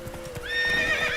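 Galloping hoofbeats of a horse in The Witcher 3's island setting of Skellige, with rhythmic clip-clop in the low end followed by a loud, sustained whinny that rises over the running.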